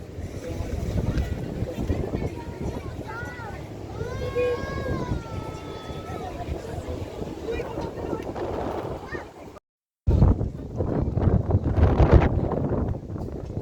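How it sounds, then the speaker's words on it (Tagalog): Strong wind buffets the microphone with a steady roar, while people talk over it and a vehicle or boat engine rumbles underneath. "Lakas ng hangin."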